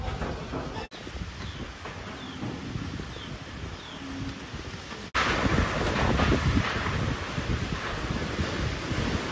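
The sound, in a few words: strong wind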